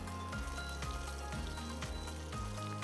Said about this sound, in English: the idea now is to cook the cherry tomatoes until they are slightly cooked or start wilting